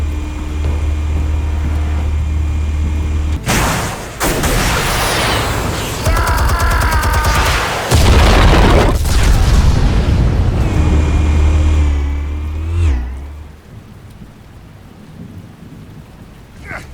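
Explosives detonating in Batman: The Telltale Series, a heavy low rumble broken by sudden loud blasts and crashing debris, then a fade to quieter ambience.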